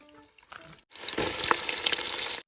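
White onion dropped into hot oil with spices in a pan, a sudden loud burst of sizzling frying that holds steady and close after a quiet moment.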